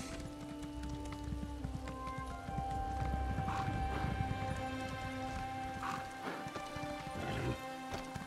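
Horse hooves clatter in rhythmic clip-clops as a mount climbs in The Elder Scrolls Online, with game ambience and a brief whinny-like tone, moderately close and without talk.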